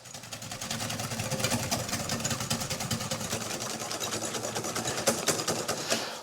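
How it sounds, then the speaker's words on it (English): Egg yolks and caster sugar being whisked: a continuous, fast, buzzing whirr with a rapid even pulse, steady and close for several seconds, with no talking. "I'm going to whisk this up and get it nice and light"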